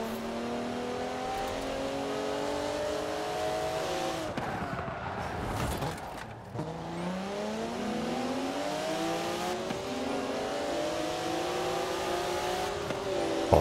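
BMW M4 cars in the Forza Horizon 4 video game drone and rev continuously, engine pitch rising and falling through gear changes as several cars race close by, a sustained loud engine roar throughout.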